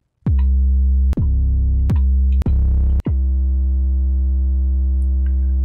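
An 808 bass sample loaded into an MPC keygroup program, played as five deep sustained bass notes that each start with a sharp click and ring out long and loud, alone with no talk.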